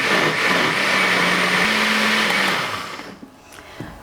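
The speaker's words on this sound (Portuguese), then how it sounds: "eu vou bater no liquidificador até o milho triturar" A kitchen blender grinds corn kernels into a cream for chicken fricassee, a loud steady whirring motor roar that holds for about three seconds, then cuts off and spins down into quiet.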